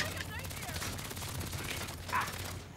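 Gunfire in the Saints Row video game (2022) comes through as a fast rattle of shots under loud in-game shouting, with a brighter blast near the end.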